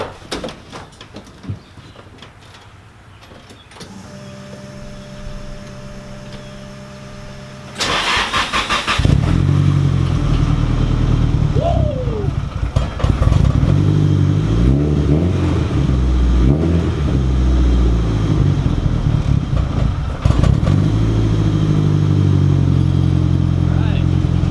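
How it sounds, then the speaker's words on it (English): A Nissan S13 240SX with a relocated battery cranks briefly, then catches and settles into a loud, steady idle with small throttle blips, close by in a quiet garage. "Now it's just time to see if she'll start."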